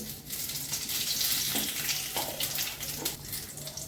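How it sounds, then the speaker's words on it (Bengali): Dried red chillies, bay leaf and panch phoron crackle in hot oil at the start of a shrimp curry with Malabar spinach and pumpkin, a close, busy sizzle with sharp spits and pops. "দুটো শুকনো লঙ্কা ফোড়ন করছি, তেজপাতা দিচ্ছি"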